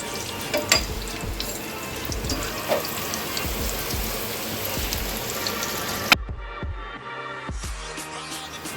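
Potatoes shallow-frying in oil for Kashmiri dum aloo, a dense, steady sizzle with occasional pops that suddenly quietens to a softer crackle near the end.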